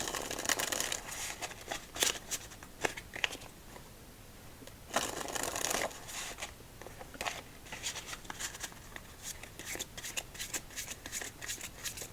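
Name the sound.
shuffling playing cards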